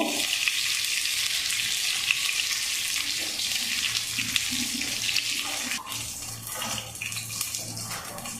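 Pointed gourd frying in hot oil with a continuous close sizzle. The sizzle eases slightly near the end as a few utensil clinks break through.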